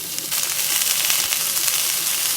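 Onions sauté in a pan with tamarind, coriander and mint, giving a steady close sizzle with soft stirring scrapes throughout and no talk.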